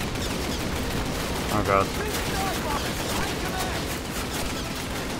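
Enemy gunfire in a Call of Duty airfield defence mission keeps up as dense, continuous shooting and bursts of fire, while a player briefly exclaims over it.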